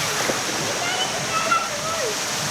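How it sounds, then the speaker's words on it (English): Water splashes and rushes at a toddlers' wet play splash pool at a family hotel in Benidorm, a steady splashing wash that fills the background, with voices mixed in. "this is the kids club and wet play splash pool area for the toddlers"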